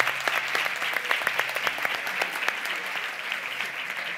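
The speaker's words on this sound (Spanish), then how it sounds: "Un aplauso para Siscu" Audience applause for someone named Siscu on a live show, a dense, steady wash of many hands clapping at moderate volume throughout, with no speech over it.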